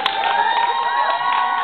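An audience at a 1HOTLOVERS second-anniversary music gathering cheers for a performer, a brief burst of mixed shouts and whoops that stays steady and fairly loud throughout.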